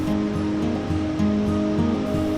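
The Dudh Kosi river in Nepal rushes beneath a suspension bridge, a steady loud broadband roar of flowing water filling the whole stretch without pause.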